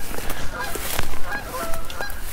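Geese by a river honk repeatedly and loudly at close range, a busy overlapping series of calls with a little rustling underneath.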